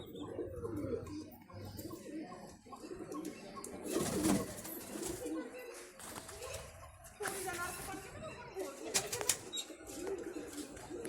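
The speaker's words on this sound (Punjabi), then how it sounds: "ਆ ਗਿਆ ਕਬੂਤਰ" A pigeon arrives with bursts of loud wing flapping and low coos nearby, while people talk over the birds.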